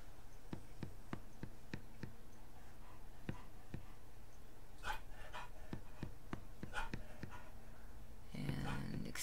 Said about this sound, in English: excuse me just a moment while I settle down a woofy dog.